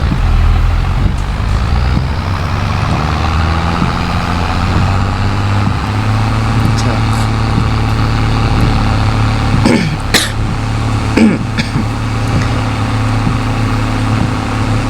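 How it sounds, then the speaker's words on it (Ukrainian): An old tractor's engine in Farming Simulator 22 rumbles loud and steady for the whole stretch, with scattered clanks and sharp knocks, some near the end, and no speech over it. "Трактор старий заглох."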